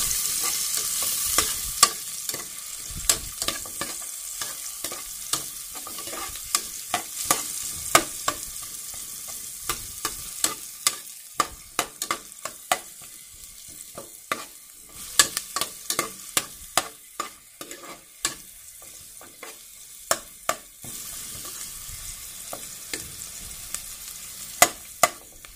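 Onion frying in a pan for spaghetti sauce, a steady close sizzle punctuated by frequent sharp clicks and taps of a utensil stirring against the pan, with no talking.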